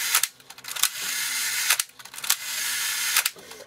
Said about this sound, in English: So if I fire the shutter, and it seems to work really good, even if I set it to something 1 second.